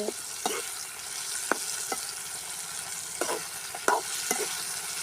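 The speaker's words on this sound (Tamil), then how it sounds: "தக்காளியே ஓரளவு வதங்கிடுச்சு" Tomatoes sautéing in a pan for a drumstick tamarind curry give a soft continuous sizzle, broken by several sharp spoon-against-pan clinks and scrapes as they are stirred, close up and without talk.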